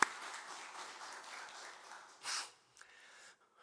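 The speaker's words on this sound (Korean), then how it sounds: "우리 다시 한번 좀 더 크게 큰 박수로 격려와 축복하겠습니다" Church congregation applauding during a Sunday worship service, a soft, diffuse patter of clapping that swells briefly near the middle and then dies away, with no speech.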